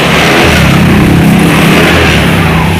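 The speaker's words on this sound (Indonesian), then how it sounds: "Ini kita coba ke starter." Honda Vario 150 scooter engine running right after an electric-starter start, a steady close mid-range engine hum holding throughout with no talk.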